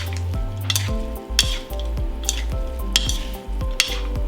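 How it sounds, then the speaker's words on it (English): Soup spoon tossing a Vietnamese rice vermicelli noodle salad in a bowl, repeated scraping clinks and wet mixing sounds in a steady rhythm, close and fairly loud, with no voices. "You want to thoroughly mix it up from the bottom to the top like that."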